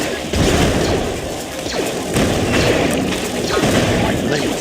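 Cannon fire in the game Star Wars Galactic Battlegrounds: repeated loud booms and crashing impacts over a busy battle din, with a voice talking over it.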